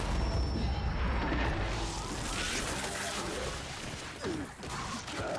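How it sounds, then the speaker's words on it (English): A flashbang grenade goes off in Gears 5 online multiplayer, a loud, dense burst that rings on as a sustained noisy wash with crashing debris, then slowly thins out. "Flashbang out!"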